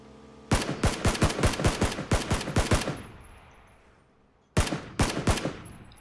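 Rapid bursts of gunfire in the battle royale game PUBG, a dense string of loud close shots for about two seconds, then a pause and a second short burst of several shots.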